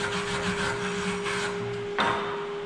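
Close scratchy wire brush scrubbing over a 7018 flat fillet weld in short back-and-forth strokes, a raspy grinding texture with a steady hum underneath.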